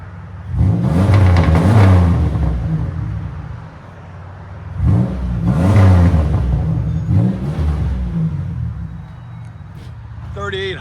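2004 Chevy Impala 3800 V6 exhaust through a Netami resonator, two strong revs a few seconds apart with rising and falling roar between steadier idle, loud and nearby.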